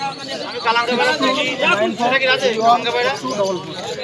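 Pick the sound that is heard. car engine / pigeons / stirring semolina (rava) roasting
pigeons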